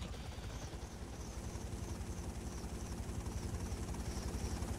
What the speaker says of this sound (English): let's hope we don't need this helicopter anymore.